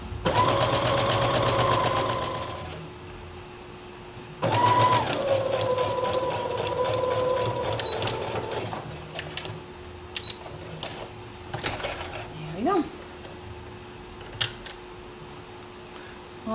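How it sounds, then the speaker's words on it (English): A sewing machine stitches around the raw edges of fabric for a simple skirt, running in two steady bursts of close, loud mechanical whirring, then falling quiet for a few clicks and small handling noises. "I'm just going to sew around."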